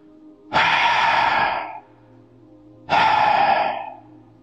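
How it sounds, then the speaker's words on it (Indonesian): Two slow, heavy breaths, each a long airy exhale of about a second, separated by a pause and close to the listener. "terdengar suara nafas berat"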